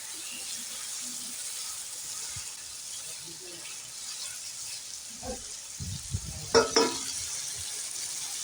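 Gochi and tengra fish go into sizzling, fully cooked-down masala in a pan, with a steady frying hiss and a few stirring clatters near the end.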